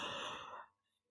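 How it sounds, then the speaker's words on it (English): A teacher in an algebra class lets out a single close, breathy yawn, a drawn-out exhale that fades after about half a second into near silence. "sorry, I got a yawn."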